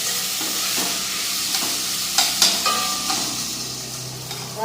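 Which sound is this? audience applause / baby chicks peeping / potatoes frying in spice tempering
potatoes frying in spice tempering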